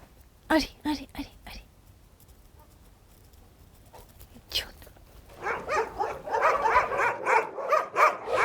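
Several dogs bark in short bursts at a shelter for disabled and old dogs, a quick run of barks followed by a lone one, then a voice talks quietly as more barking continues nearby.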